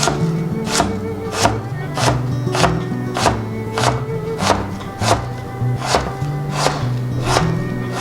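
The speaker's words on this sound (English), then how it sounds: "Hold them together firmly and carefully and chop." A knife chops through chunks of food on a board, landing about a dozen firm, evenly spaced thunks at a steady rhythm, close and clear with no talk.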